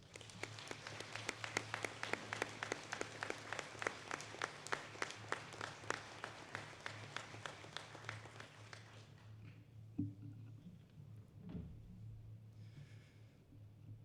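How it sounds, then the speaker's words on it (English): Audience applause for a Command Sergeant Major honored at a 2022 military Court of Honor ceremony, dense steady clapping for about nine seconds that then stops abruptly, leaving a low hum and faint room noise. "Can we please give him a round of applause?"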